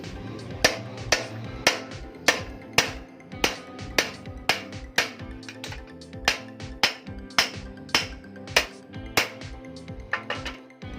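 Steady, evenly spaced metallic hammer strikes on a metal part of an old tractor, about two per second, ringing sharply over a low background hum.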